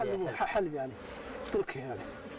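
Honey bees buzz in a constant soft drone during a honey harvest, beneath someone speaking nearby.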